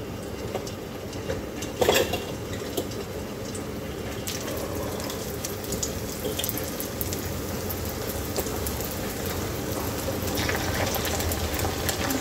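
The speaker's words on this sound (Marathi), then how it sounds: "आपलं तेल गरम झालेलं आहे, आपण याला तळायला सुरुवात करूया।" Cabbage manchurian balls deep-frying in hot oil make a dense, continuous crackling sizzle with fine popping throughout and one brief louder burst early on. No voices are heard.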